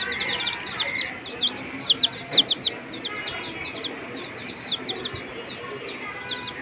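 Young chicks cheep in rapid, high-pitched bursts, several overlapping in irregular clusters throughout, as they are let loose on the floor of a small home poultry setup.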